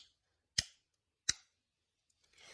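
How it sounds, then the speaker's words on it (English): Two sharp, separate clicks from the on/off button of a colour scanner, spaced about three-quarters of a second apart in a quiet room, followed by faint rustling. "I bought a button that makes a clicking noise so that they will know when the scanner is on."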